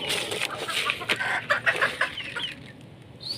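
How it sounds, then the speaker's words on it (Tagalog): The neighbour's pigeons coo and flutter among farm fowl, a busy run of overlapping clucking, chirping bird calls, fairly close and lively, then thinning out. "Ito yung mga kalapati ng kapitbahay."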